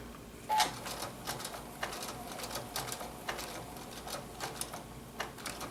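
A sewing machine stitching an appliqué on an autumn table topper, sounding as a quiet run of short mechanical clicks and taps in uneven bursts, with brief pauses where the fabric is pivoted.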